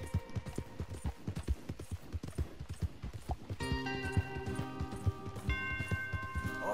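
Horses' hooves in Red Dead Redemption 2, a run of rhythmic clip-clop beats at a trot, fairly close, with game music tones rising in the second half.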